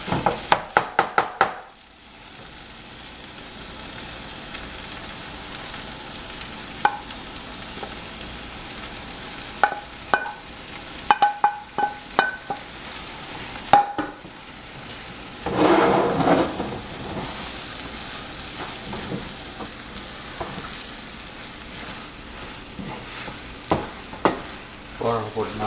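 Parotta being stir-fried and mixed with kurma-style gravy for kothu parotta, a steady sizzle broken by scattered clanks and scrapes of a utensil, with a louder burst of frying midway.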